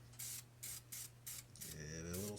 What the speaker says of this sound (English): give it a little spray, and that'll seal off the rust